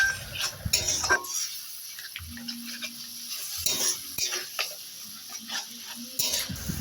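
Spoon stirring and scraping spice masala in a pan with a little water added, for a bhetki fish-bone chorchori; soft close clinks and scrapes over a faint sizzle, with no voices.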